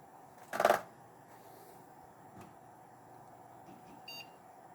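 A desktop computer motherboard with a no-display fault gives a single short beep at power-on, faint against a quiet room hum, followed by small clicks and a soft second tone.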